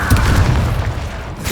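Incendio fire spell cast in Hogwarts Legacy, a loud, low booming rush of flame that swells at once and rumbles on steadily for over a second, with no voices.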